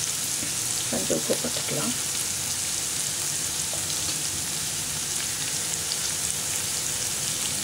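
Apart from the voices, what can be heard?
onions sautéing in a pan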